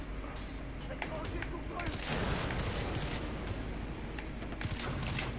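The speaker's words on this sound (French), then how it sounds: "J'ai jeté une grenade là-bas." Gunfire and blasts from combat in Far Cry 3 around a thrown grenade, heard as a dense crackle of shots with a broader rumbling burst in the middle, fairly loud and continuous.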